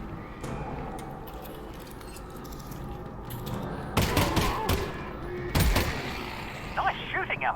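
Gunfire in the virtual reality game Half-Life: Alyx, a few sharp, loud shots spaced seconds apart amid quieter clanks and rustles, with voices talking between them.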